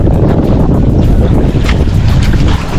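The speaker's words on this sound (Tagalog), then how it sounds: "Medyo malakas pa rin ang amihan dito." Strong northeast monsoon wind buffets a boat anchored at sea, a loud continuous roar of gusts and microphone rumble with water sloshing against the hull, steady throughout with no voices.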